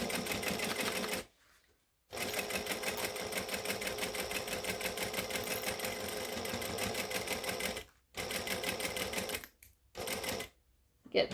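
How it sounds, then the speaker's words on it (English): Sewing machine stitching slowly around the edge of fabric in a long steady whirring run, stopping briefly a few times before resuming, close and clear. "And then I'm just going to stitch around slowly."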